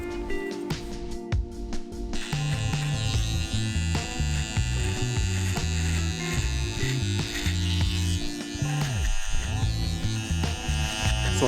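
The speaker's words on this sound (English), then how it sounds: "So I'm using my Andis Slimline Pros to basically start vaulting them out at the very bottom." An Andis Slimline Pro trimmer buzzes steadily while cutting hair and beard during a fade haircut, close and continuous, with shifting pitch as it moves through the hair.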